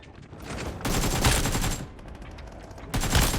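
Gunfire in PUBG Mobile, during a vampire game mode: loud bursts of rapid automatic shots in two or three volleys with short pauses between them, no talking.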